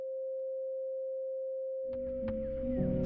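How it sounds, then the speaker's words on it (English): A pure 528 Hz sine tone generated by a computer or signal generator holds steady and alone, then a faint musical background with clicks and tones creeps in beneath it toward the end. "when it's produced through a computer or a signal generator, it sounds like this"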